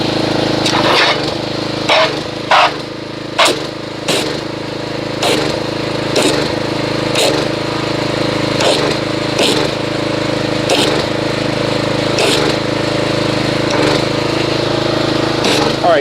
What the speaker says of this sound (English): I'm going to agitate the soap with a pressure washer